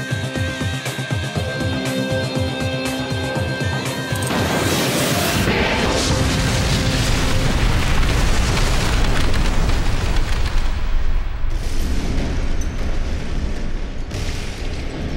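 Loud rocket explosions boom and roar in a dense, sustained blast, with the rumbling burst building and carrying on for several seconds, heard alone without talk.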